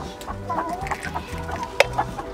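Broody Serama hens cluck in soft, repeated low calls close by, with a sharper squawk near the end.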